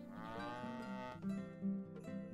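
A cow in a video game gives a long, loud, drawn-out moo followed by shorter repeated lowing calls, close and clear with no talk over it.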